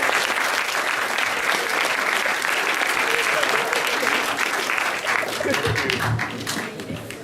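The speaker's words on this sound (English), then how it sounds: "A big round of applause, people." An audience at a student scientific society session gives a round of applause, a thick, steady roar of clapping from many hands that holds for several seconds, with murmured voices rising underneath as it starts to taper.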